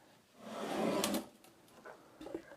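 A wax-treated wooden drawer with handles front and back, from a small workshop station for a Metabo KGS 305 M miter saw, slides out with a brief rising scrape, followed by a few light knocks and clicks.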